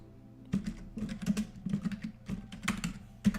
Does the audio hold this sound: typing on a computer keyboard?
yes